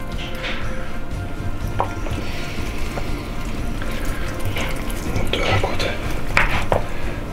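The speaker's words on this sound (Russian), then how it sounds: "выкладываем мяско вот так" Cooked meat for a German-style beshbarmak is laid out onto a dish with clinks of utensils against the plate and soft scraping, close and steady under kitchen background noise.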